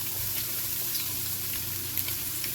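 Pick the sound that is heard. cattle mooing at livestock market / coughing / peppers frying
peppers frying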